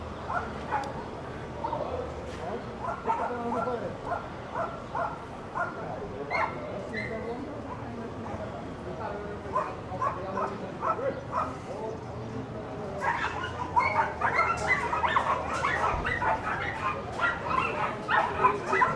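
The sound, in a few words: dogs barking at a market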